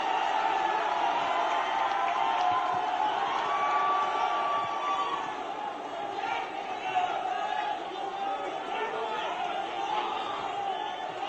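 Large outdoor crowd at a political rally cheering, whooping and applauding in a sustained, dense roar that stays loud and even throughout, with an announcer's voice heard over it.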